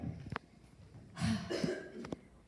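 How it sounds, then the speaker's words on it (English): A throat clearing, a few short rough bursts with a brief cough-like rasp, fairly quiet and close, with no talking. "Gotta clear my throat."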